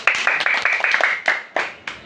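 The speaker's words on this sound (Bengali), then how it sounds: "তাহলে নাহিদার জন্য আমরা জোরে আবার একটা হাততালি দাও" Schoolchildren clap for a classmate at school: a burst of loud, quick claps in a fast, fairly even rhythm that grows more scattered toward the end.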